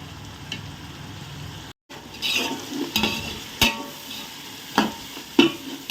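Tomatoes for Ambur chicken biryani frying and being stirred in a pan, with a steady sizzle and repeated scraping strokes and clanks of the ladle against the metal, after a brief silent gap.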